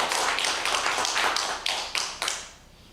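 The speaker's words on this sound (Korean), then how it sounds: "영광의 박수를 올려드리도록 하겠습니다." A congregation at a Korean Thanksgiving church service claps together in a rhythmic run of loud, roughly even beats that slows and thins into a few separate final claps.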